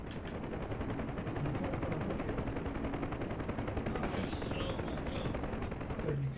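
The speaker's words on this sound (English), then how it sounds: "Right, and then you should be able to press the fire button" A Huey helicopter's machine gun fires nonstop in the DCS World combat simulator, a dense, rapid rattling stream of shots over the aircraft's rumble, holding loud and unbroken throughout.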